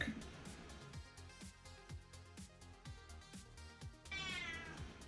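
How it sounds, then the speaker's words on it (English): A cat meows repeatedly in short, insistent calls at an even rhythm, close and clear, with a longer, drawn-out meow at the end. "Cat does not want to be picked up and held."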